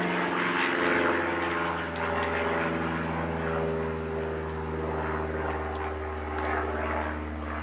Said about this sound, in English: another daggone airplane